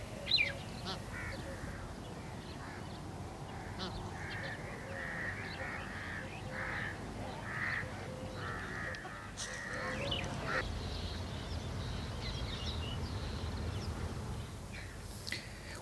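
Bar-headed geese call near a large river, a series of honking, cackling cries repeated at moderate distance over steady outdoor ambience, with louder calls clustering in the middle of the stretch.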